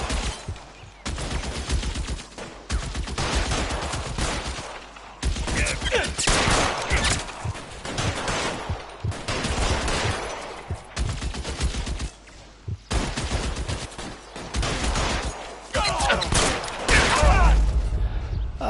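Heavy gunfire in the crime game L.A. Noire, long loud bursts of rapid shots repeating in dense volleys with brief pauses between them, close and dominant, with a voice faintly underneath at times.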